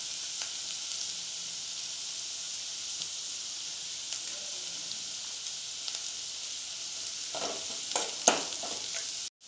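Garam masala and onions fry in oil for a tapioca cutlet mixture, giving a constant hissing sizzle, with louder scraping stirs from the pan toward the end.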